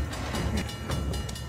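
Train rolling on rails in the video game Uncharted: The Lost Legacy, a steady loud rumble with rhythmic metallic clacks and bursts of hiss, continuous throughout.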